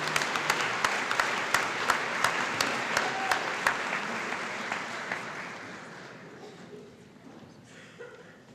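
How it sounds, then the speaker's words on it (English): Applause from an audience at a high school awards night for science award students, dense clapping with a few sharp individual claps standing out, gradually thinning and fading toward the end. "If we can give these students and all those who've received science awards a round of applause"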